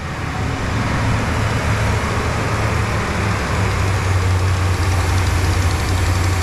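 A Dual Spark HEMI engine idles right after start-up, a loud, close, steady drone with a low hum and faint knocking texture running unbroken throughout.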